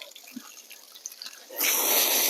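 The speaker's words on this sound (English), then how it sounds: "we basically just want to come in with a good stream of water" A steady, broad hiss of water spraying onto soil around pepper plant roots starts abruptly partway through, after a quieter stretch of faint drips and rustling.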